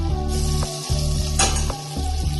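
Butter and olive oil sizzle steadily in a kadai, a continuous close hiss of frying that runs the whole time with no talk.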